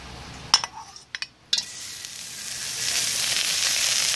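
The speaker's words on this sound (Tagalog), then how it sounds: "Ilalagay natin yung ating butter." Butter dropped into a preheated wok-style pan: a few sharp clinks of utensils, then a rising, steady sizzle that grows louder as the butter melts.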